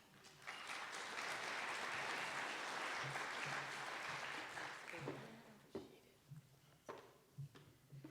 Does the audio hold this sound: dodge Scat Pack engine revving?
no